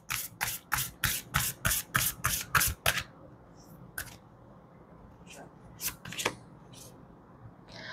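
Moonology oracle cards shuffled by hand, a quick run of about ten crisp riffling snaps close up, followed by sparser taps and card slides, with faint talking in the background.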